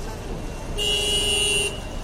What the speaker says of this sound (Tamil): தற்பொழுது கோயம்பேடு பேருந்து நிலையம்